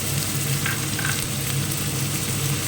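Cumin, ginger and garlic pastes fry with reddened onions for rita fish curry, giving a loud, dense, unbroken sizzle close by with no voices.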